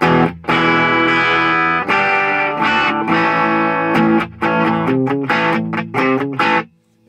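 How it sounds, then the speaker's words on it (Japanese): Distorted electric guitar from a Gibson Les Paul Deluxe played through a Marshall JMP50 1987 amp with an attenuator, loud sustained overdriven chords and notes with brief pauses between phrases. "ストラトの時はまだここクリーンだったんですけど、だいぶ、歪み出しますね。"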